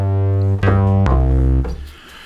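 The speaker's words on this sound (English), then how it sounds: "I changed the bass track to something called punchy bass," A punchy bass synth preset in Logic Pro X plays a few sustained, harmonically rich bass notes with sharp attacks, close and loud with no voices, the last note fading out.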